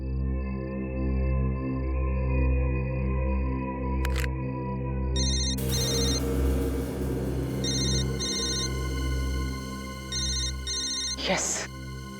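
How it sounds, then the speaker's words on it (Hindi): A telephone rings in repeated electronic bursts against a steady hum and insect-like chirping, with a voice speaking partway through. "उस तरफ से आवाज आ रही है फोन की।"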